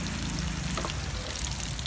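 Crispy pork ribs with satay fry in hot oil, giving a steady, close, dense crackling sizzle that holds at an even level throughout with no talking.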